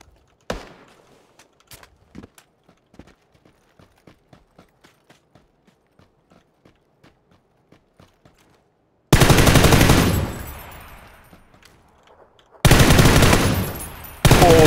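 Distant gunfire exchange between players in the video game PUBG, a series of sharp sparse shots fading in and out, followed by two loud dense bursts of game noise.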